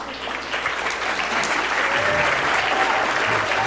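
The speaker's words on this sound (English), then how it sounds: "let's hold the applause, okay?" A large audience at a stem cell research awards ceremony claps steadily in a dense, even wash of applause that holds at full loudness throughout, with no voices standing out.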